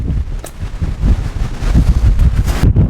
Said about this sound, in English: So today we're at Bobby Castle Golf Club in this wind, which is pretty insane